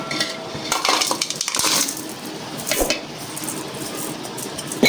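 Sesame flour is mixed in a large pot, giving clinking, scraping spoon strokes against the vessel over a few busy seconds.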